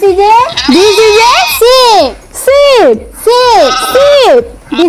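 A sheep bleats loudly and nearby, a series of about five wavering, nasal calls in quick succession, heard alone without speech.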